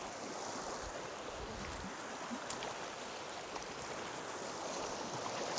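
Steady rushing of a flowing stream at a water-monitoring site for E. coli sampling, a constant broadband wash heard close and unbroken, with no talking.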